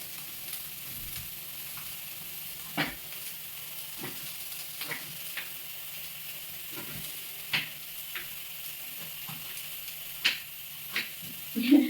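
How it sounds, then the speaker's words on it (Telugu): Onions frying in a pan at home, a soft steady sizzle under intermittent knife-like taps and clicks, fairly quiet and close. "ఇది ఆనియన్ ఫ్రై అవుతూ ఉంటుంది"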